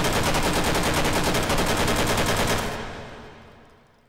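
Sustained full-auto burst from an STG44 rifle in the VR shooter H3VR, a rapid, loud, evenly spaced string of shots for nearly three seconds before cutting off into a fading echo tail.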